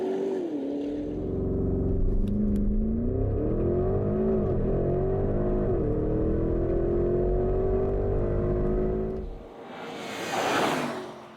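A Porsche Cayenne Turbo GT SUV accelerates hard on a racetrack, its engine note climbing through rising gear pulls for several seconds before cutting off, followed by a short whooshing rush.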